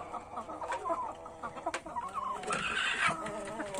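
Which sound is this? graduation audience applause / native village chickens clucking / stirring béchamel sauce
native village chickens clucking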